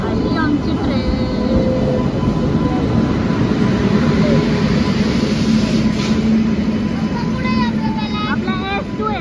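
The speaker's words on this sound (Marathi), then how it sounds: "आली आमची ट्रेन." A train pulling into a railway station during heavy rain, a loud steady rumble and rolling clatter with whistling squeals near the end, people talking over it.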